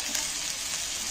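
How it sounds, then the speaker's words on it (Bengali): Vegetables, including pumpkin, frying in a covered pan for a fasting recipe, giving a brief, soft and steady hiss of sizzling with no voices. "এইভাবে চাপা দিয়ে ভাজবো"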